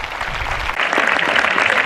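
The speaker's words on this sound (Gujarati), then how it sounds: "જોરદાર હાથ તાળીના નાદથી આ બાળકોને વધાવી લઈએ." Audience applause for a group of children at the 2014 annual sports festival, a dense, steady burst of many hands clapping that holds loud throughout with no pause.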